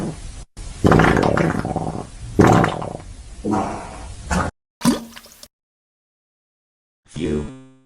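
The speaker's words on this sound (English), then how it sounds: "This is how the farting sound effect from Yuri sounds like." A comedic farting sound effect plays as a series of wet, squishy bursts of varying length, the first few long and rumbling, then a short sputter, a pause, and one final brief squeaky blurt.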